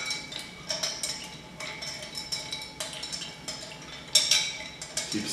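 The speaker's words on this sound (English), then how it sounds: "Now we're going to stir. Stir about 30 to 45 seconds." Ice clinks and ticks against a mixing glass as a Manhattan cocktail is stirred at a home bar, a fairly quiet run of light, irregular chinks with a brighter cluster near the end and no voices.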